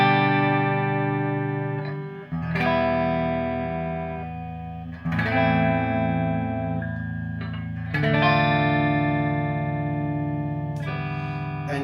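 A PRS S2 Mira semi-hollow electric guitar with its tone knob at 8.5 plays a few strummed chords through an effects chain with light distortion and chorus. Each chord rings out clearly and decays before the next strum, with no talking.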